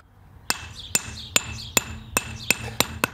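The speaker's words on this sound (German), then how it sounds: "Das ist ein handelsüblicher Maurerhammer." Ordinary mason's hammer striking natural paving stone, seven sharp ringing clinks at an even, slightly quickening pace, close and distinct against quiet background.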